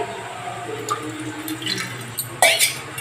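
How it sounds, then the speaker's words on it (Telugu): Tamarind water is poured into a kadai holding a little oil while making a village-style peanut chutney. Brief watery drips and splashes build to a louder pouring burst near the end. "ఇప్పుడు చింతపండు పులుసు అందులో పోసేసి కొన్ని వాటర్ పోసేసుకొని"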